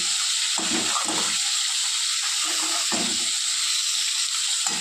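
Fresh fish fry in hot oil with black cumin and green chillies, giving a loud, steady hiss and sizzle that runs unbroken and close throughout.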